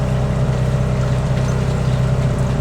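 New engine of a narrowboat on a canal in Coventry running steadily, a close, loud, constant low throbbing drone with no talk.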